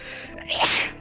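A single sharp sneeze, close and fairly loud, bursting out after a brief quiet breath with no talk over it.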